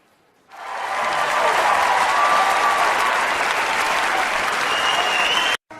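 Audience clapping at a Sambalpuri comedy show starts suddenly and holds as a loud, dense, sustained wave of applause before cutting off abruptly near the end.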